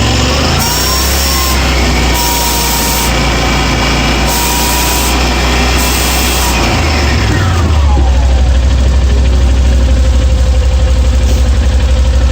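An air compressor charging and cleaning a CVT port runs loud and steady with a deep motor drone. Partway through, the pitch sweeps down and the running settles into a heavier, rougher chug that continues to the end.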